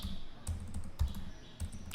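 Keystrokes on a computer keyboard while coding JavaScript, a quick run of close, soft clicks and taps with a few heavier thumps, without any speech.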